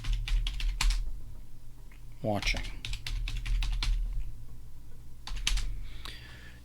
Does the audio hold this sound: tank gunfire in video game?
no